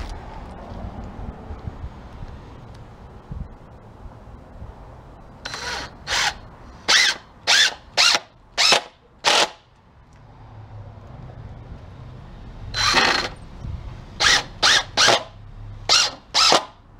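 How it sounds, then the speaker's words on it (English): Power drill driving screws into a wooden planter box: about a dozen short, loud whirring bursts in two close groups, each run-in lasting under a second with brief pauses between, over a low background rumble. "And run our screws in."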